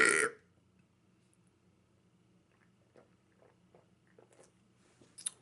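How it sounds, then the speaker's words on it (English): A single loud, raspy human burp opens the clip and cuts off quickly, followed by quiet mouth sounds and faint small clicks that resemble chewing. "I love to burp."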